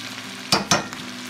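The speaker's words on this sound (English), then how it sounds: "You can see how them onions are starting to brown up a little bit." Onions, jalapeno and garlic frying in butter in a pan, with a steady low sizzle broken by two sharp stirring scrapes close by, no talking.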